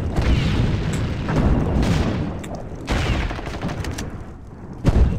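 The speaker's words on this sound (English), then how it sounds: "You just get bombed all over." Bombing in Sudden Strike 2: heavy booming explosions and scattered gunfire roll continuously across the battlefield, with several louder blasts punching through and a sharp bang near the end.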